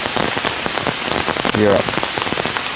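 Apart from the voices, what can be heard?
rain falling in the jungle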